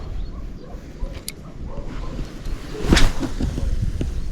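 An Azura Sawada Light 90L spinning rod, 2.74 m and rated 4–16 g, is cast into the wind outdoors, one sharp whoosh rising briefly above a steady background of wind noise.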